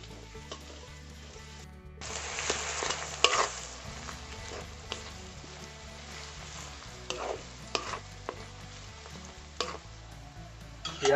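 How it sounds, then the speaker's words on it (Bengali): Onions fry with salt in a pan, sizzling up sharply after a quiet start. The close hiss and crackle continue, punctuated by scraping stir strokes, with a faint tonal hum running underneath. "পেঁয়াজটা লাল লাল করে ভেজে নেব।"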